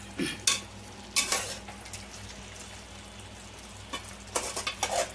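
Chicken sukka with pepper is stirred and fried in a pan, with several loud scraping stirs and clatters over a steady low sizzle, close by and without speech.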